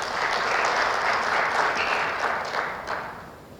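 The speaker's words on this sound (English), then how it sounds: "a round of applause." Audience applause fills a conference hall at an annual professional conference, a dense sustained round of clapping that stays loud throughout before tapering off slightly at the end.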